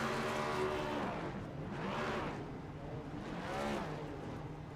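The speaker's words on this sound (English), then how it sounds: "So he's going to do some burnouts here" A race car in the iRacing video game does burnouts at North Wilkesboro, its engine revving in three steady surges with tire-squeal overtones, moderately loud and heard alone.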